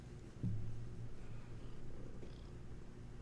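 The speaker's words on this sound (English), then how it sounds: "Oh, do you have purrs? Yes, you have the purrs." A pet cat purring close by, a low steady rumble that rises around half a second in and continues softly throughout, with no talking.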